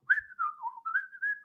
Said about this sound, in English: prove your FTFE by whistling